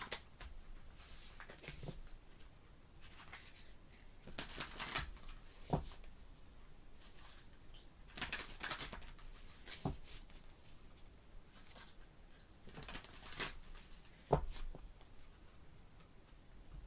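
Tarot cards from a solar-themed deck are shuffled, a clunky, hard-to-shuffle pack, giving bursts of riffling and slapping at irregular intervals, close and moderately loud, with quiet pauses between.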